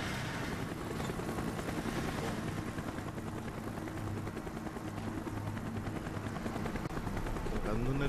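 A helicopter in Call of Duty: Black Ops hovers with a steady low rotor thump and whine, loud and continuous, with bursts of distant gunfire mixed in.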